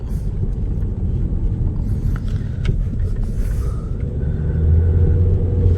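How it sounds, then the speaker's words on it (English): A 2014 Chevy Cruze on a road test after a turbo replacement, heard from inside as a steady low road rumble and engine drone that swells slightly louder toward the end, with no talking. "right now I'm just taking it for a road test, and seems to be driving fairly smooth at the moment"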